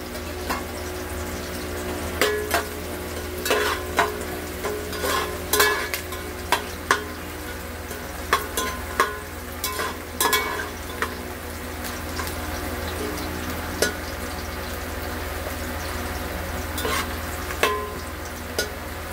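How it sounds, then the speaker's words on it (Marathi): Onions and cumin seeds frying in oil in a pot for veg pulao, a low steady sizzle with scattered sharp clicks and scrapes of stirring throughout. "तो आता कांदा लाल होत आलेला आहे। थोडासा जिरा टाकते।"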